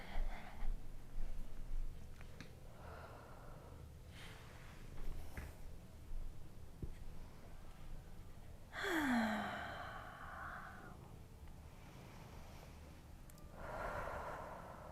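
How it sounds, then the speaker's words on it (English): Slow, deep breaths during a yoga class, several airy inhales and long sighing exhales spaced several seconds apart, moderately close with a soft room hum beneath and no talking. "We'll take about 5 nice full breaths."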